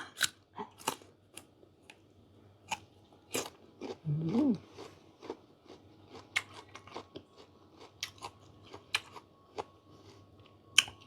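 Crisp bites and crunchy chewing of fresh dates, close up, as a run of sharp irregular crunches with one longer, heavier chewing burst midway, no talking.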